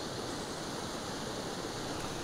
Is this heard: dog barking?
no